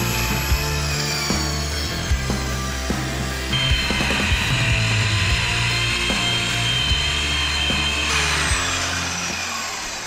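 A small circular saw whines steadily while cutting framing lumber, loud and close, with a continuous motor drone and shifting tone as the blade bites, and no talking.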